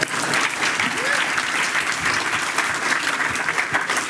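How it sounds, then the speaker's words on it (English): An audience applauds during a university State of the University address at UC Merced. The clapping is loud, dense and sustained throughout, and it sounds like a large crowd in a hall. "Pause for applause."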